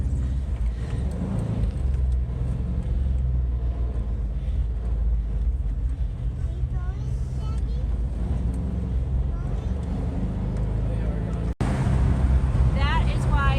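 A car drives past close by on a road, a steady low rumble swelling and fading, with voices talking over it and a sharp knock near the end.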